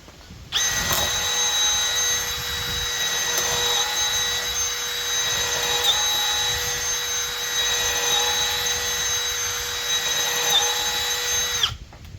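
A Milwaukee M12 FUEL drill with an all-metal chuck runs at speed 2 in drill mode on a full battery, a steady high-pitched motor whine held for about eleven seconds before cutting off, alone and up close.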